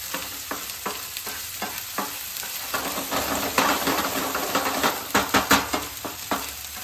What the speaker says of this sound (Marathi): ऑनियन गोल्डन ब्राऊन होत नाही तोपर्यंत त्याला सॉते करून घेऊयात